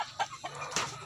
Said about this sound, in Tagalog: meron tayong native chicken dito sa loob